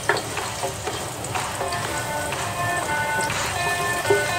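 White onion and ginger fry in a pan for a scallop and squash coconut-milk dish, giving a steady close sizzle with small crackles and a few stirring scrapes.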